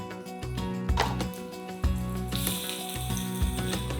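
Saba bananas sauté in hot oil while cooking down for homemade banana ketchup, a soft steady sizzle with a brighter hiss in the second half, heard under background music.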